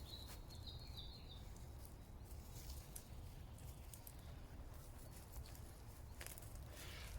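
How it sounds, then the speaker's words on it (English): Faint chirps from a few birds in a forest, scattered and distant, over a steady outdoor hiss and some light crunching footsteps. "listening to the birds chirping away"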